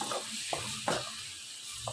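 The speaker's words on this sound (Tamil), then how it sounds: "நல்லா மிக்ஸ் பண்ணிவிட்டு சிம்மில் போட்டு நல்லா வதக்கிக்கலாம்." Tomatoes sautéing in a pan over a low flame for a Tamil tomato kadayal, giving a soft, steady sizzle with a few brief stirring clicks, fairly quiet and with no voices.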